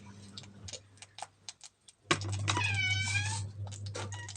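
A domestic cat meows once, a drawn-out close call, following scattered light ticking and tapping in a quiet kitchen.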